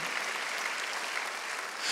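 Dense, steady applause from a church congregation at a Wednesday worship service fills the whole clip, with no gaps and a faint swell near the end.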